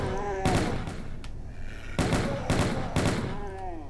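Gunfire in Doom 2: Alien Vendetta, level 10 Toxic Touch, with several loud, sharp shots, a pair early and a cluster of three later, cutting through background game noise and monster sounds.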